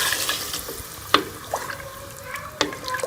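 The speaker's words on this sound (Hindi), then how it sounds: "तो मैं इसमें 2 गिलास पानी शामिल कर दूंगी।" Water is poured over beef cooking in ghee for balti gosht, giving a soft splashing and sizzling wash with a couple of sharp clinks of utensils against the pot.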